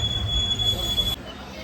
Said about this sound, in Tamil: இன்னொரு ட்ரெயின் ஆப்போசிட்டில் வர ட்ரெயின் ராமேஸ்வரம் மதுரை.